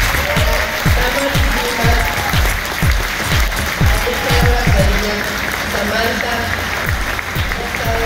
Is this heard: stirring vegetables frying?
no